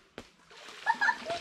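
A stone is skipped across the Uwharrie River during a family paddle trip, giving a sharp knock followed by a few quick small splashes on the water, fairly faint and brief.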